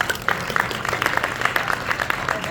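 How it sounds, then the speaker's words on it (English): Workshop group claps together in a short, uneven round of applause, individual hand claps audible, moderate level, no voices standing out. "Give yourselves a round of applause."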